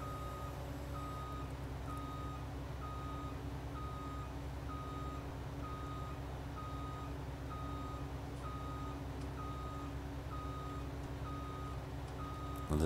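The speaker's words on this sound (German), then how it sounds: "Das nervt schon ein bisschen, das Piepse, gell?" Steady repeating reversing beeps from a Lexion combine harvester in Farming Simulator 19, evenly spaced and clear over a constant low engine drone throughout, with no talking.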